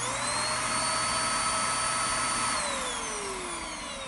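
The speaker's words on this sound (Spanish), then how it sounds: "Muy bien, pasa la aspiradora, estupendo." A vacuum cleaner runs steadily and loudly with a constant whine, its pitch dropping slightly near the end as the motor winds down a little; no one talks over it.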